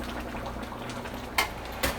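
Ground beef and potatoes simmer down in water in a pot, giving a soft, steady bubbling hiss with a couple of brief clinks near the end.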